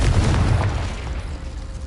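A Confringo fire spell blasts in Hogwarts Legacy, a deep booming burst up front that rolls into a sustained rumbling roar and slowly fades over a couple of seconds.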